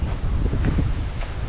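Autumn wind in Peterhof buffets the microphone outdoors with a low, rumbling roar and gusty surges, a steady blustery noise with faint rustling and no talk.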